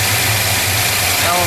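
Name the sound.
car engine idling with Holley carburetor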